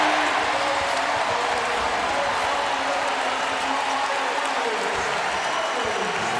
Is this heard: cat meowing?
no